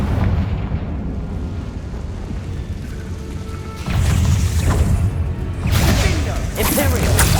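A Confringo spell fired in the Hogwarts Legacy video game lets off loud, fiery blasts, one hitting near the four-second mark and another shortly after, each a broad roaring burst over a steady rumbling game backdrop.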